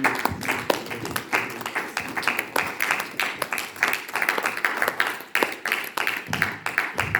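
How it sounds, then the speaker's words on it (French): A church congregation claps loudly in a fast, steady rhythm that stays dense and close throughout, with brief cheers mixed in. "Nous acclamons très fort pour la gloire du Seigneur"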